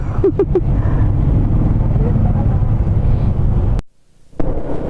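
A motorcycle riding a rough, potholed road in Mindanao, with a loud, close engine rumble and wind buffeting mixed with jolting knocks, a brief dropout near the end, then the rumble returns.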